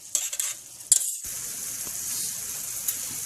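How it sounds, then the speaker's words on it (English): Chicken and steak hit a hot pan for fajitas, a few clattering drops followed by a steady, bright sizzle that carries on close and fairly loud. "Then I'm going to add the chicken and steak"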